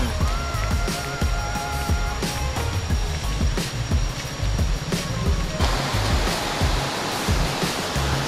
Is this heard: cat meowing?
no